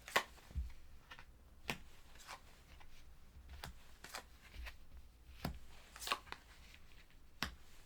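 Tarot cards are spread out on a table, giving faint soft slides and sharp little snaps spaced irregularly over several seconds in a quiet room.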